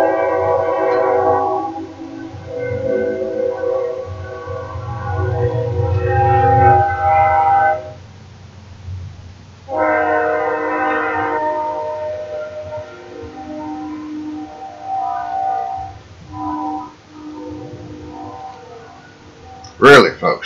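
A train rolls past near a farm at harvest time, its long, tonal horn-like drone sustained for many seconds and swelling, with a brief pause and a sharp burst at the end.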